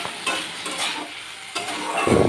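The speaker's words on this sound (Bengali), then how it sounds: "এবারে আমি ভেন্ডির সাথে এটা কিছুক্ষণ ভালো করে নেড়েচেড়ে একটু কষিয়ে নেব" Okra stirred and sautéed in a pan with kasundi mustard sauce, salt and turmeric, giving a steady sizzle with scraping stirs and a louder burst of frying near the end.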